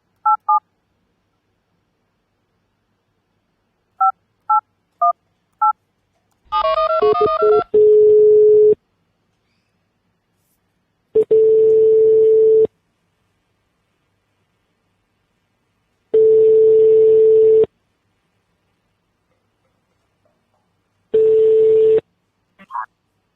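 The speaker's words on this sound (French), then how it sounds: "je vais l'appeler à l'autre numéro" On an outgoing phone call, DTMF keypad tones beep in short bursts, then a brief connecting tone gives way to a loud, repeated ringback tone that comes in four evenly spaced pulses.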